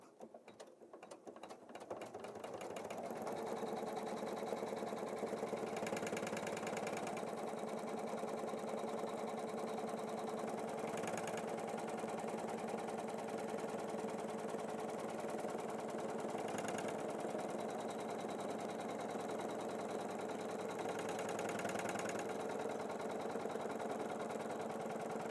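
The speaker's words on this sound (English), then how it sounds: "it's going to go around a second time to make sure it's gotten everything stitched down tightly" A home embroidery machine stitches a design in a steady, rapid mechanical whir with faint rhythmic ticking, starting up after a moment and then running continuously and evenly, quiet and close, with no talking.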